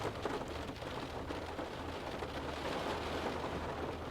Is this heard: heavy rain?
yes